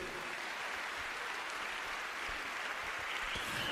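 A church congregation claps together in a steady, dense wash of applause that holds evenly throughout without a break.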